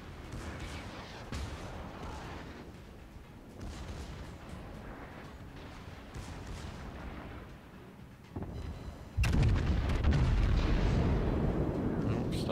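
Naval gunfire from a Yamato battleship in the World of Warships video game, with continuous rumbling battle noise and booming salvos, growing louder and heavier near the end.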